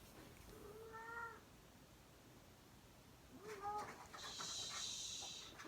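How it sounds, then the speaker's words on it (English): A cat in heat gives out two drawn-out, wailing meows a few seconds apart, fairly close but moderate in level. A shrill, higher squeal follows the second call, over low background noise. "one of my cats is in heat and she's just"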